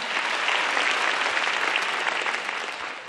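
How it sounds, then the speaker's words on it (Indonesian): A studio audience at the grand final of a stand-up comedy competition applauds, a dense, loud, steady wash of clapping from a large crowd that fades slightly at the end. "Beri tepuk tangan sekali lagi untuk Bang Densu."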